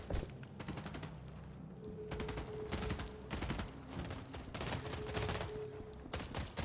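Sustained gunfire in the video game The Expanse Osiris Reborn, rapid automatic bursts and repeated shots in a dense firefight, continuous and fairly close.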